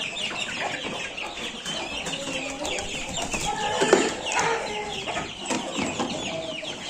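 Chicks peep and grown chickens cluck together in a coop, a busy, dense chorus of high chirps and clucks throughout, fairly close.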